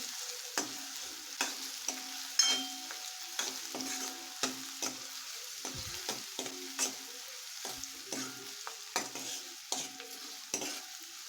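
Chopped onion sautéing in a pan until golden brown for palak paneer, a steady sizzle broken by repeated scraping stirs at a regular pace, close and alone with no talk.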